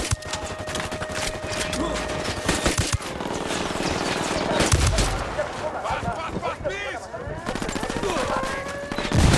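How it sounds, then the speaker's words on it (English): Heavy automatic gunfire in Ghost Recon Wildlands, loud sustained bursts and rattling volleys with impacts, punctuated by booming hits, a voice speaking briefly amid the shooting. "I'm opening fire on these shitheads."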